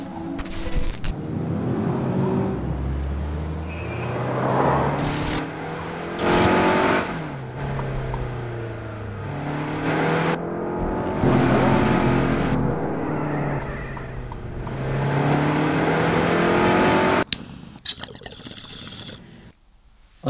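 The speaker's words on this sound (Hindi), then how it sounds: "अब इसके इंजन का भी जरा चेक करते हैं।" A car engine idles and revs repeatedly, its pitch climbing and falling in several rising sweeps over about twenty seconds, loud and close, with a brief burst of noise near the end.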